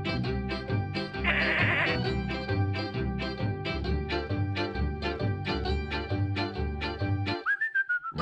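Cartoon sheep bleat in a Hey Duggee app counting game, a bright, musical, synthesized baa repeated over a bouncy tune, ending with a short rising whistle.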